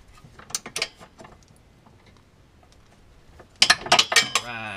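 A Craftsman torque wrench, clicking and leaking oil, tightens a Subaru subframe bolt while a Perrin subframe lockdown kit is installed: close ratcheting clicks in two bursts, sparse at first, then a dense loud run.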